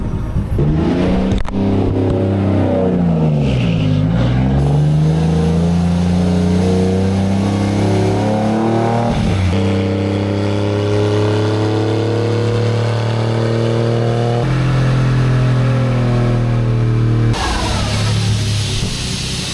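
A drift car engine revs loudly and steadily on a dyno during tuning, its pitch sweeping up and down through several sustained climbs, with no voices.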